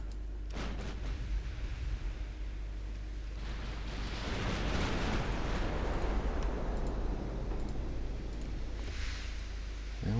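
Torpedo hits on warships in the naval video game Ultimate Admiral Dreadnoughts: low, rumbling explosions over steady, quiet battle noise, with one deep, swelling blast in the middle.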